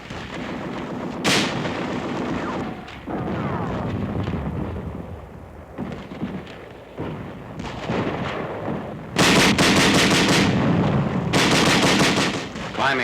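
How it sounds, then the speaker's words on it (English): Tanks and Bren light machine guns give supporting fire during a World War II canal crossing near Boxtel, with loud bursts of automatic fire and heavy booming shots in irregular clusters, near and sustained. "Tanks and Bren guns giving supporting fire."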